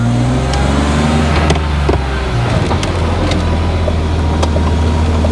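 A BMW E36 with a freshly rebuilt engine revs up in a short, loud burst and then drops back to a steady, close idle hum, the revs hanging briefly before settling.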